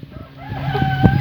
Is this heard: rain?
no